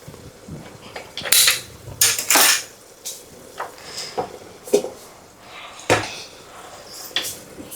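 In a home kitchen where mushroom dishes are cooked, a pot is covered with its lid and moved to another burner, giving several close metallic clanks and scrapes with quieter shuffling between.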